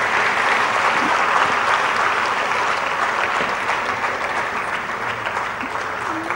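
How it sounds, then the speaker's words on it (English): Large audience of women applauding at a Vivekananda 150 women's initiative gathering, steady dense clapping that stays loud and continuous throughout with no talk. "I think that calls for a huge round of applause, and I'd like to see more applause"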